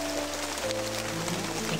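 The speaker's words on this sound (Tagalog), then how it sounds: "malakas po yung ulan mga tul" Heavy rain pours down while people shelter under a nipa hut, a dense, loud hiss that fills the short stretch with no clear voices.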